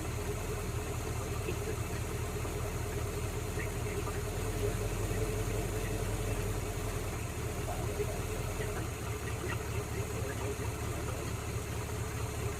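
Ford F100 pickup engine idling steadily in drive under load with a carburetor being tuned, a continuous low rumble close by, the idle dipping slightly partway through.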